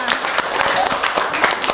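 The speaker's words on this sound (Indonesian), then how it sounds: "tepuk tangan untuk kalian semua" A classroom of students claps their hands together for a few seconds in a dense, lively patter of close claps, with a voice mixed in.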